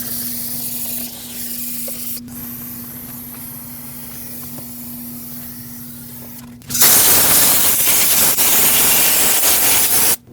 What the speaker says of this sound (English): I want to rinse everything so that there's no more brake fluid